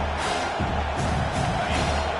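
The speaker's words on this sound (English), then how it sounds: "3rd down, and this crowd is tearing the lid off this place." A packed college football stadium crowd at a USC versus Ole Miss game roars loudly and continuously on third down, a dense sustained wall of cheering with swelling surges.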